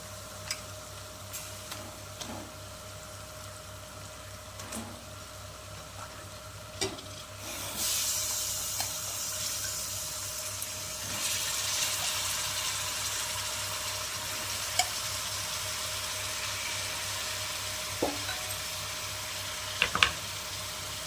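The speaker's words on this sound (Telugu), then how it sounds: "బాగా వేయించుకోవాలి చికెన్ వేస్తున్నాను" Chicken pieces go into a hot pan and fry with a steady sizzle that swells louder partway through, broken by sharp scraping taps of a spatula against the pan, with no talk.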